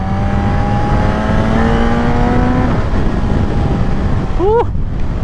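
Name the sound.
Suzuki GSX-S1000 motorcycle engine accelerating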